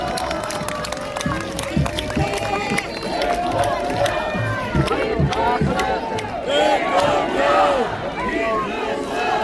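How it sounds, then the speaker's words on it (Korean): A large crowd at an outdoor Korean political campaign rally in Bucheon cheers and shouts together amid a dense wash of voices, loud and sustained throughout, with clapping mixed into the roar. "박수 한번 해주세요."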